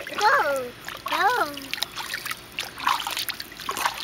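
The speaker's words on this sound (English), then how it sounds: "Don't splash Mommy's camera." Water splashes and splatters close by while a small child babbles and squeals, with scattered drips and bursts of splashing after the voice fades.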